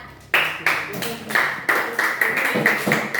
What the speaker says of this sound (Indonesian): Beli aplaus kepada Aat.